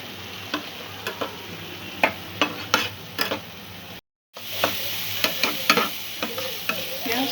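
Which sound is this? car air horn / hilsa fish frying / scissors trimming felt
hilsa fish frying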